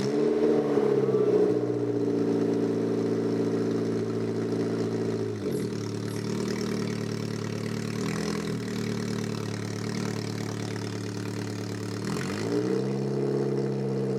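A 2003 Toyota Corolla engine runs at a steady, close idle for several seconds, its low harmonic drone dipping briefly and recovering a couple of times, with no talking.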